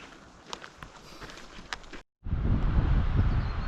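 Gusty wind buffets the microphone, lighter at first with crunching steps on a hiking trail up to a windy mountain lake, then a sudden loud roaring blast after a brief gap.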